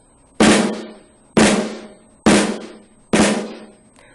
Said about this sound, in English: Correct flams sound like this.